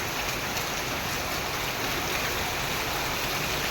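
Heavy monsoon rain pours steadily onto a village house roof, a dense, loud, unbroken hiss that holds at the same level from start to finish.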